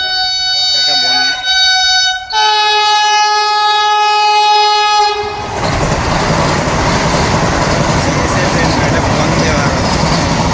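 A Vande Bharat express train arrives, sounding a long, loud multi-tone horn in two blasts before a heavy rushing roar of the passing carriages takes over, close by.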